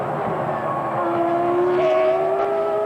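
Michael Schumacher's Ferrari Formula 1 car in the 2000 season crossing the finish line, a loud, sustained high engine whine rising in pitch as it passes close by, with no voices.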